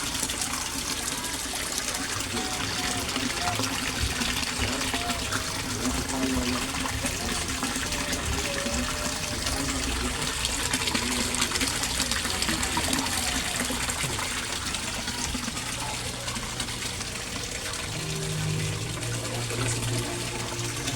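A steady rushing and splashing of water runs continuously as an Aqua Speed submersible pump feeds a waterfall into a koi pond, dense and even throughout with no voices.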